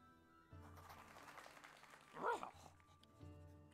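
A dog barks in the Inkulinati video game, a short loud yelp-like burst rising over soft game music and background sound.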